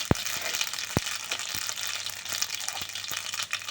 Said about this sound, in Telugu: ఆవాలు, పచ్చెనపప్పు, సాయమినపప్పు వేసుకున్నాము